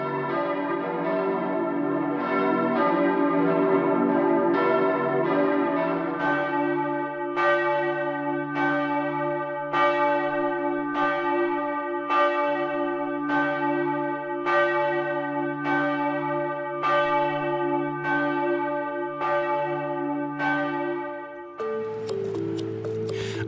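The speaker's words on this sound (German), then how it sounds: "Auch am Jahrestag die Glocken läuten, genauso lang wie der Schütze geschossen hat." Church bells ring on the anniversary of the Hanau attack in Hesse. Their resonant strikes fall in a steady repeating rhythm, loud and sustained over a humming drone of overlapping tones, with no voices present.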